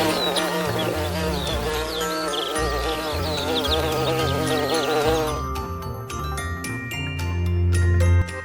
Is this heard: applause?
no